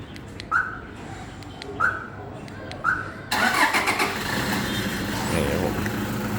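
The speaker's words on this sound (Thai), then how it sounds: "ครื่องยนต์สตาร์ทติดนะครับ" A Toyota Vigo Champ pickup is started by remote starter: three short electronic chirps, then the engine cranks and catches at once, settling into a steady, close idle.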